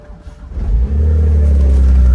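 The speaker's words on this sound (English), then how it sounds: "Car sounds pretty good." BMW 135i with a hybrid turbo upgrade, DCT gearbox, axle-back exhaust and high-flow downpipe, revs up from a low rumble into a loud, deep, sustained engine drone heard close inside the car.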